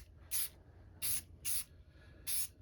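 Four short, bright hissing bursts of spray paint land on a camper rim in an uneven rhythm. Each spurt is close and crisp, with quiet gaps between them.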